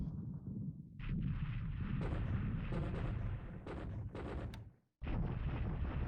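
Bursts of 500-pound bomb explosions striking an airfield in the War in the Pacific video game, several heavy booming blasts in close succession with a brief silence before a final loud hit.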